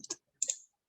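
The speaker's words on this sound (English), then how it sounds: "here I'm going to type in my message" Two brief bursts of keystrokes on a computer keyboard, quiet and close, a short pause between them.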